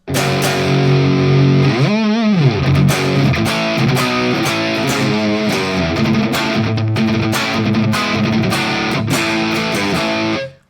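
A loud, sustained distorted electric guitar through an MXR Distortion+ pedal plays chords and bends, with a gritty overdriven tone that rings out and then cuts off at the end.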